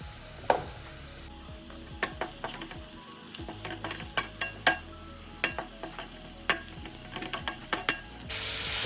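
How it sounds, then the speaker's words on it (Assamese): Garlic and turmeric frying in a pan with steady sizzle, broken by repeated scraping stir strokes and light clinks of a utensil against the pan at close range, with no talking. "এতিয়া দিম মই ইয়াত নহৰু। এতিয়া দিম হালধি।"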